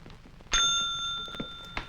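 A bell in the horror film Silent Night Bloody Night rings once with a sharp strike and a sustained, clear ringing tone that slowly decays, followed by a couple of faint knocks and a soft second tap near the end.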